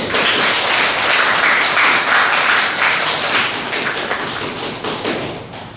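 Audience applause at a university special lecture on art and philosophy, a loud, dense wash of clapping from a crowd that holds steady and then gradually thins toward the end.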